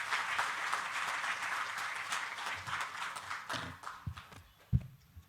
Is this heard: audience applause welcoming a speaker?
yes